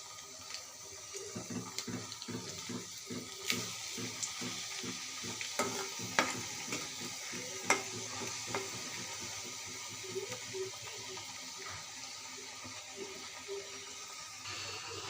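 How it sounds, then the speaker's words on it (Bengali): Hand-cut snacks fry in hot oil with a steady broadband sizzle, broken by scattered clicks and stirring knocks and a few louder utensil taps, without speech. "এগুলো আমি এখন তেলে ভেজে করে নেব।"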